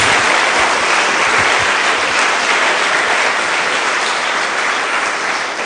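Congregation clapping for Jesus during a church service: steady, dense applause from a crowd, loud and sustained throughout with no talk over it.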